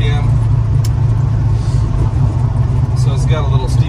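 A 1977 Chevrolet C10 pickup with a 555 big block V8 and TCI transmission cruising at speed, a deep steady engine rumble filling the cabin while someone talks over it.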